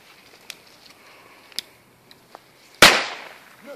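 A single loud bang from a Keller Pyro-Cracker firecracker, its crack decaying into a short echoing tail after a few faint clicks and taps beforehand.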